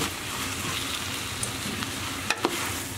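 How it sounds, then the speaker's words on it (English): Lamb sizzles and fries in a pot with softened, browned onions and celery for Moroccan harira, a steady crackling hiss throughout, with a few brief clicks of a utensil near the end. "we're going to add our lamb straight in."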